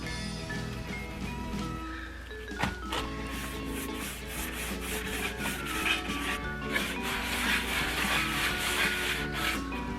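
A dark wax brush scrubs Annie Sloan dark wax onto wooden furniture in a continuous close, rhythmic rubbing over a low steady background hum.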